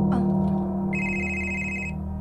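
A cellphone rings with a bright, steady electronic tone lasting about a second, clear and close against a quiet room background.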